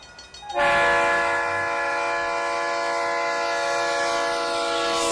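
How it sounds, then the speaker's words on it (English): Train horn sounding loud and sustained, starting abruptly after a faint start and holding a steady multi-tone blare to the end, used as a Twitch hype train alert. "Oh, shit. It's a hype train."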